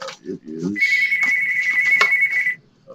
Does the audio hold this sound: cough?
no